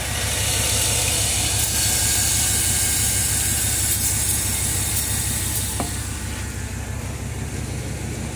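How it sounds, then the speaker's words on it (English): A car engine runs steadily, close and loud, while brake cleaner is sprayed near the intake, adding a continuous hiss over the low engine drone. "We're going to listen and see if this motor jazzes up for the fumes, if they get sucked in through the intake."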